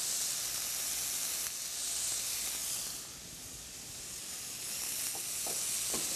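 Butter sizzles in a hot pan with browning chicken pieces, a steady bright frying hiss that briefly softens in the middle, with a few faint stirring clicks near the end.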